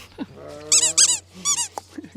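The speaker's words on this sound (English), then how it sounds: "you'll probably hear him squeaking it as he brings it back to me" A dog's squeaky toy squeals in several sharp, high bursts, close and loud, with soft dog growling and snuffling in between.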